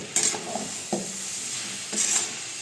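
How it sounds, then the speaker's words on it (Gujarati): Hakka noodles are stirred with red chili sauce, soy sauce and vinegar in a hot pan: three distinct scraping strokes over a soft, steady sizzle, close and alone with no talk. "હવે સરસ એને બધું મિક્સ કરી દઈશું"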